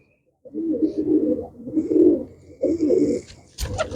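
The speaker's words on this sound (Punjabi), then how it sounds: "ਲਓ ਜੀ ਆ ਕਬੂਤਰ ਆਏ ਹੋਏ ਅੱਜ ਆਪਣੇ ਕੋਲ ਦੇਖ ਲਓ ਤੁਸੀਂ" Pigeons coo close by in three soft, throaty phrases, ending with a sharp rustle or flutter.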